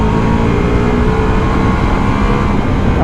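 A Ducati Multistrada V4S motorcycle engine revs loud and close, a steady dense roar holding for about three seconds with a slight rise toward the end.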